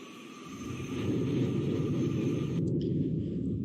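Airplane engine in the Roblox flight game Project Flight, a steady loud droning rumble that swells slightly and holds continuously, with no talking over it.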